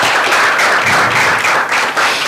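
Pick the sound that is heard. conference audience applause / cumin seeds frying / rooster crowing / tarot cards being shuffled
conference audience applause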